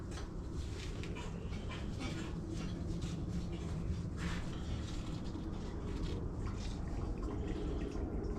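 Fuel being drawn out of a Benelli motorbike tank with a small hand pump, a steady trickling, dripping liquid sound that runs continuously at close range with no talking.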